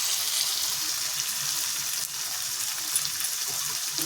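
Onions frying in fish oil, a steady, close, dense sizzle with faint crackles throughout and a brief soft dip near the middle, no voices.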